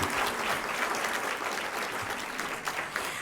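Steady, moderately distant applause fills an award ceremony hall at the Premio Copé 2024, a continuous crowd clapping with no voices rising above it.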